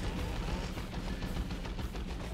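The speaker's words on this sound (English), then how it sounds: "There's a shotgun blast." Dense battlefield gunfire from Dawn of War 2: Retribution, a sharp shotgun blast buried in continuous crackling shots and explosions, loud and busy throughout with no pause.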